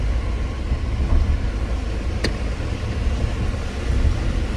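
A Suzuki Jimny creeps slowly across a narrow single-lane bridge in the Kalash Valley, its engine a steady low rumble from inside the vehicle with one sharp click partway through.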